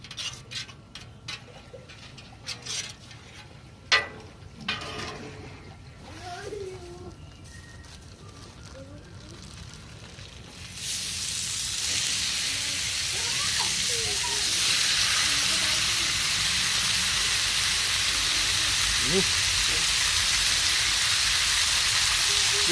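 Four pounds of taco meat hits a 36-inch Blackstone griddle: after scattered clicks and handling noises, a broad, steady sizzling hiss swells up and holds loud to the end.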